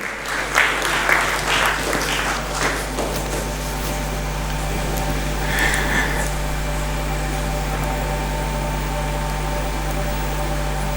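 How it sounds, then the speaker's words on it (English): Audience applause at an electric vehicle handover ceremony bursts loudly for the first few seconds, then fades and leaves a steady low electrical hum and background room noise. "A round of applause,"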